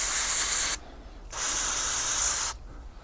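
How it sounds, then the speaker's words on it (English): Two long bursts of carb cleaner sprayed from an aerosol can into a Kawasaki ZXR750 H1 motorcycle carburetor, each a steady, loud, close hiss with a short pause between them. "I'm going to get my can of carb cleaner and I'm going to clean it out."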